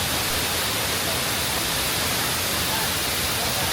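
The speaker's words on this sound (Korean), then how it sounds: "같은 폭포지만 전혀 다른 모습, 한번 감상해 보시죠" Steady, dense roar of a large waterfall in Guizhou, China, heard from the side, a continuous broadband wash of falling water filling the whole stretch with no pauses or voices.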